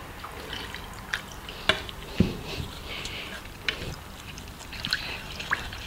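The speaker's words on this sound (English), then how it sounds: "Put some water in it." Water poured into a bowl of squeezed tamarind pulp in a kitchen, giving soft drips, splashes and a few sharp wet plops at irregular intervals, close by.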